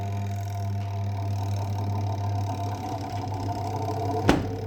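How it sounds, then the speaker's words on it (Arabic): The spin motor of a Fresh semi-automatic washing machine runs after its spin-dryer tub is reassembled, a steady low electric hum with a mechanical whir, ending in a single sharp knock. "كده الموتور اشتغل تمام"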